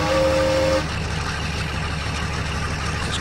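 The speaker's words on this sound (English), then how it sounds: "Horn." A V200 diesel locomotive in Train Simulator 2016 on the Munich–Augsburg route gives a short, loud horn blast lasting under a second, then a steady low engine rumble continues alone.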